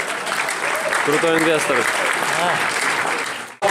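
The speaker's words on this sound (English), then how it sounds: "So please just give a big round of applause." Audience applause fills a real estate summit hall in San Francisco's Bay Area, steady and dense for over three seconds. Voices talk over the clapping, and it stops abruptly at the end.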